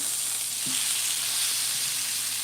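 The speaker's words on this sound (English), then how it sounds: "Got a nice sear on them. I'm gonna let them kind of cook off here." Pork chops sear in a hot pan with a steady, close, continuous sizzle and a few soft clinks, no talking.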